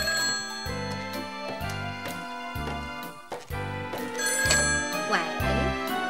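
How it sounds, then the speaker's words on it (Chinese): A telephone rings in a living room, its bright electronic ringing repeating in steady, evenly spaced bursts that stay loud and continuous from start to finish. "突然客厅里的电话响了起来。"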